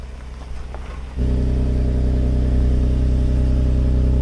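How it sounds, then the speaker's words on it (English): A BMW X3 M's engine idles off-road, then jumps to a loud, sustained, even growl as throttle is applied against the brakes, holding steady without talk. "What I'm doing is applying throttle while also using the brakes."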